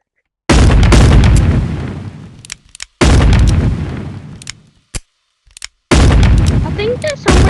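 Three loud bursts of gunfire at a shooting range in the VR game Animal Company, each a long, dense volley that fades over a couple of seconds, with short gaps and a few brief pops between them.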